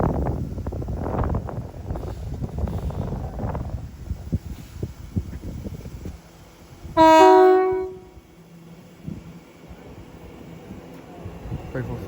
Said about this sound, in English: Greater Anglia service passing from Norwich to London Street